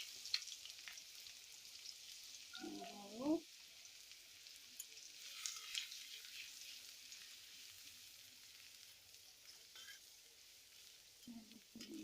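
Chopped garlic sizzles steadily in about four spoonfuls of hot oil, a quiet continuous fry with a couple of brief louder stirring clatters; no voices.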